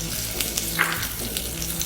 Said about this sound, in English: As the cumin seeds start to splutter